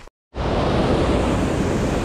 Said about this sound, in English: Katahdin Stream's waterfall